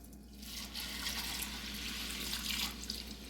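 Water pours steadily into a soup pot in a home kitchen, a continuous close splashing rush that swells slightly partway through.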